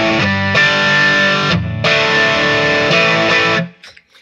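Electric guitar driven through a Boss SD-1 overdrive pedal into a Fender Deluxe Reverb amp, loud sustained distorted chords with bright mid-heavy tone, a brief dip midway, then ringing out and cutting off near the end.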